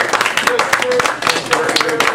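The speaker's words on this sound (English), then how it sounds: "let's give our speaker one more round of applause" Audience at a civic club meeting claps for a speaker on ballot integrity, a dense steady patter of many hands lasting a couple of seconds, fairly close, with voices murmuring underneath.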